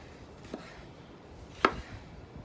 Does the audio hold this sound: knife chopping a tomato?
yes